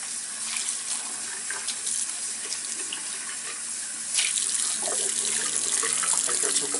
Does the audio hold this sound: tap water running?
yes